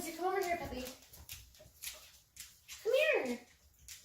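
A five-year-old dog whimpers in short, high, wavering whines, the loudest near the end, while a woman calls to it and keeps talking close by.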